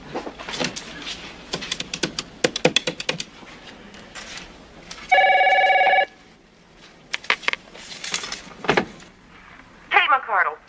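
A single telephone ring tone sounds for under a second, clear and fairly loud, set between stretches of conversational talk as a call is placed from a home phone.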